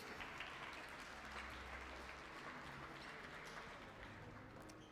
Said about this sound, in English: a round of applause for this medalists